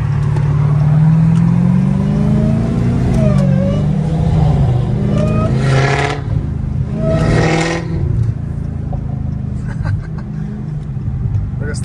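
A Dodge Hellcat Redeye engine drones loudly from inside the car while driving, with a couple of sharp revving surges partway through and a steady rumble throughout.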